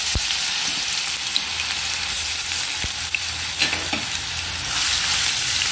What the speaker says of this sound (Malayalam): അപ്പം നമുക്ക് ആദ്യം തന്നെ ജിഞ്ചർ ഗാർലിക് പേസ്റ്റ് ഇട്ട് കൊടുക്കാം ഇതിൽ.